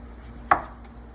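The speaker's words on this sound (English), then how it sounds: "Cutting and slicing and dicing." A single sharp knife chop through zucchini on a cutting board, one crisp close thud in an otherwise quiet moment.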